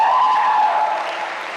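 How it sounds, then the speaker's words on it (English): Applause from an Independence Day gathering in a Chicago club, honoring a mayor, a state representative and other dignitaries; a steady, dense wash of many hands clapping that fades slightly toward the end. "Give them a round of applause."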